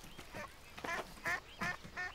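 A cartoon duck quacks five times in a quick rhythmic series, each quack nasal and clear against faint background noise.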